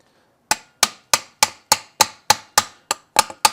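Light hammer taps on carburetor parts from a 1954 Packard Clipper Deluxe: ten sharp, evenly spaced metallic knocks about a third of a second apart, close and clear with no talk.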